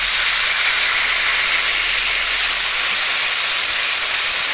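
Water poured into a hot pan of prawns cooking with taro stolons and raw tamarind bursts into a loud, steady sizzle that holds at full strength without pause and with no talk.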